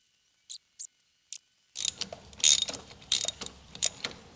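A pipe spanner works a 5/8-inch imperial bolt on the fuel pump of a 1986 Chevrolet Monte Carlo SS. A few sharp metallic clicks come first, then a busier run of close ratcheting, scraping and tapping.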